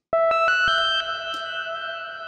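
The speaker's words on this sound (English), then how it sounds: "a basic synth here with a saw wave and some reverb and a low-pass filter" A bright saw-wave synthesizer with reverb and a low-pass filter plays a quick run of plucked notes that ring out into a lingering reverberant tail.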